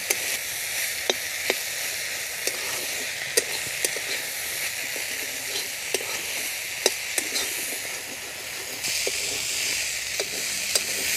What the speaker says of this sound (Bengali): এখন এটাকে একটু নেড়ে চেড়ে ভেজে নেব।